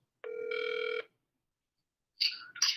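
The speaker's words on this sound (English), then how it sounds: "I'm gonna call her on my other phone" An outgoing phone call rings once with a clear electronic two-tone ring, followed after a pause by the start of another ring, with no talking.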